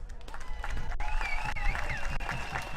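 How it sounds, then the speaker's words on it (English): An audience breaks into sustained clapping, a busy crowd sound with a whistle-like tone and cheering mixed in, fairly distant and moderately loud. "a big round of applause"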